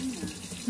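Water runs from a kitchen tap while cooking puff puff, a steady close rushing splash with a faint voice underneath.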